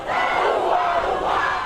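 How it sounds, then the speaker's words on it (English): Thousands gathered at the Waitangi treaty grounds let out a massive rumbling roar and chanted cry, the sustained crowd voice swelling loud and full for its whole brief length. "A cry, a rumble, an almighty roar from the treaty grounds"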